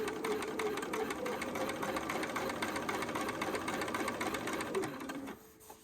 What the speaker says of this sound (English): We're just going to take this to the sewing machine and sew down here with a 1/4 inch seam allowance.